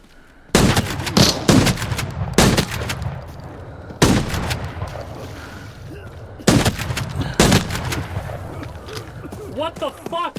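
Loud gunfire in the video game Arena Breakout: Infinite, with several sharp bursts of rapid close-range shots separated by pauses, and a voice speaking between them.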